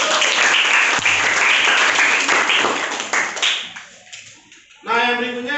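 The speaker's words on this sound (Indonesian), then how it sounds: "Oke, tepuk tangan buat kita semua." A classroom of students breaks into loud, dense applause that runs for several seconds, then fades out before a final short burst of clapping.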